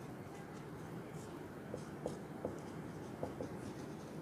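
Pen or chalk writing during a physics lesson, faint scratchy strokes in short bursts buried under a steady background hiss.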